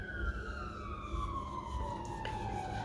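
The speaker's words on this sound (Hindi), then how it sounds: "अरे एम्बुलेंस जा रही है," An ambulance siren wails steadily, its pitch sliding slowly downward as it passes nearby, over a low rumble of traffic.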